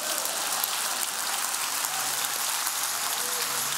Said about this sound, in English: somebody give God a hand clap.